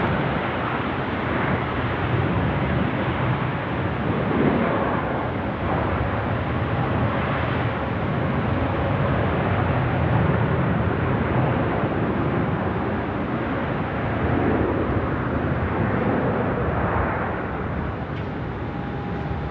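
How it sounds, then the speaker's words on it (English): A China Eastern Boeing 787-9 airliner in from Shanghai at Sydney Airport gives a steady, broad jet roar at moderate distance, sustained throughout without talk. "China Eastern 735. The Boeing 787-9er in from Shanghai."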